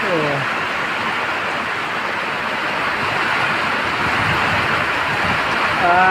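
Heavy rain in Vladivostok pours down as a loud, dense, unbroken hiss throughout, with a voice speaking briefly at the beginning and end.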